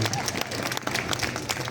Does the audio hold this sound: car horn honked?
no